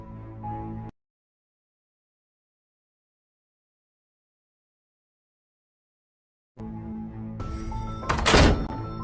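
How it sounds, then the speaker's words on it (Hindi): A gate slams shut in a cartoon, giving a sharp, heavy thunk near the end after a long stretch of silence. Faint background sound comes before it. "ये गेट किसने बंद कर दिया?"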